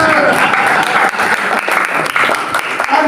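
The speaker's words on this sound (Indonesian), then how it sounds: "Berikan tepuk tangan" Congregation applauding during an Indonesian church service of prayer and fasting, a short burst of close, lively clapping with a voice mixed in among the hands.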